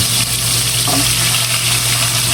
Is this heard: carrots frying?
yes